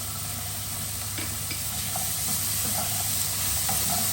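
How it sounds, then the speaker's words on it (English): Halloumi goes into a hot pan with steamed vegetables, producing a steady, moderately loud sizzle and hiss with a few small stirring clicks and no talk. "I'm now going to add in my halloumi"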